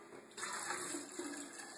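Boiling water is poured into a heavy-duty glass jar for kombucha, a close, steady trickling and splashing flow that rises slightly in intensity and continues quietly to the end.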